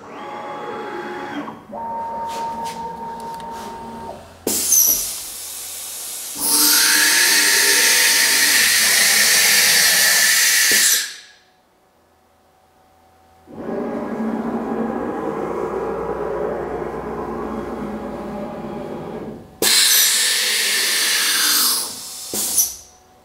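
A watchmaker's CNC milling machine changes tools with its hood opening: loud, steady hissing, whirring bursts lasting several seconds, broken by quieter mechanical hum, a brief near-silent pause and a few clicks, with no voices.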